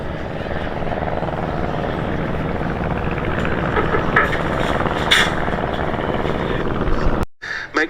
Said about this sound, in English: the 2 very distinctive Fokker DR1s, the Dreideckers, the triplanes